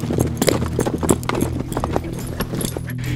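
Bucking horses' hooves clip-clopping on the ground of a ranch arena, loud, close and irregular beats continuing throughout.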